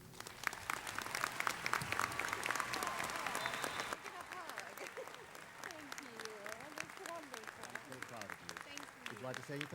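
Audience applause at a winter undergraduate commencement as an award recipient is honored: sustained clapping from a large crowd, with an announcer's voice speaking over it.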